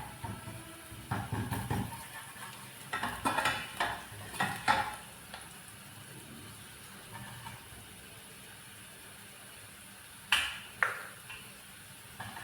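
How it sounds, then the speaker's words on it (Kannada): Onions fry and are stirred in a pan while a samosa filling is made, giving a low steady sizzle with a few sharp spoon scrapes and clinks against the pan in short bursts, then a couple more clinks near the end. "ಆನಿಯನ್ ಒಳ್ಳೆ ಫ್ರೈ ಆಯಿತು"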